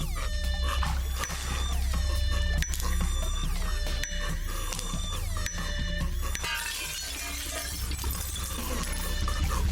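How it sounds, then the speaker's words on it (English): Glass shatters repeatedly in loud, sharp crashes layered over a dense, busy mechanical clatter, with bright ringing shards and several distinct impacts across about ten seconds. "I'm gonna break the glass!"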